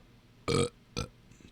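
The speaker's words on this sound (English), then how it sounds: "That was the burp." In the game Call of Duty: Modern Warfare III Zombies, a loud, close burp erupts, then a shorter second one follows, before a faint, brief sound trails off in quiet.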